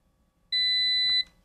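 One sustained high electronic tone from a multimeter in continuity mode, sounding loud and steady for about seven-tenths of a second before stopping, with a faint click near its end.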